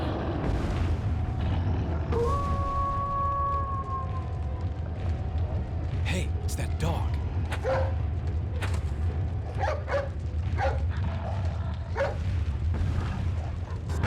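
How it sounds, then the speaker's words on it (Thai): A dog barks in Resident Evil 4 as a run of short, sharp yelps over a steady game soundscape of low rumbling, booms and a sustained tonal drone. "นี่มันหมาที่เราช่วยไว้นี่"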